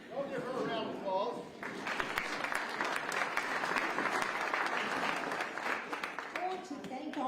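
An audience bursts into applause for a speaker's introduction, a sustained wash of clapping lasting several seconds, framed by a voice speaking before and after it.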